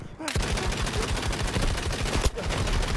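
Rapid sustained machine gun fire in the Battlefield 2042 video game, loud, close and continuous bursts with a brief break near the end.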